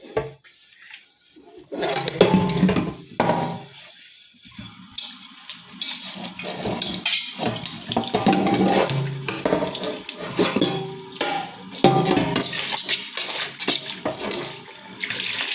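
Dishes being washed by hand in a kitchen sink: tap water runs and splashes in bursts, with clatters of plates and pots, close and fairly loud, and no speech.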